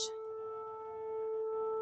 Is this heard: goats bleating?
no